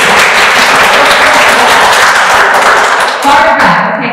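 An audience at a gathering of women printers and publishers claps in a dense, loud, continuous burst that thins out near the end, with a voice speaking briefly under it.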